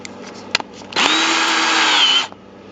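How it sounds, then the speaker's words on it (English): A power drill whirs up sharply, runs at a steady high pitch for about a second, then spins down, with a couple of faint clicks before it starts, during diesel heater repair. "take your drill"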